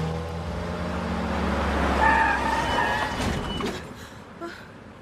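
A car engine revs up under a driving-lesson foot on the accelerator, a low steady drone that swells and builds toward the middle, then eases off with faint road noise.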